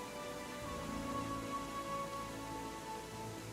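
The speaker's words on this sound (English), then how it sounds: "It's raining." Rain falling in a forest in the Pathfinder: Kingmaker video game, a soft, steady hiss of drops that stays faint and even for the whole stretch.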